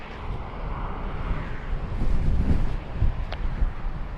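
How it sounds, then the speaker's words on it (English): Loud, rumbling wind buffeting the microphone continuously, swelling in gusts, with no speech, at the Singleton foreshore. "That was really windy then."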